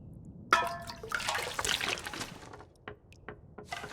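Water gushes from a toilet in The Long Dark, a sudden splashing burst that pours for a couple of seconds, then trickles away into faint drips.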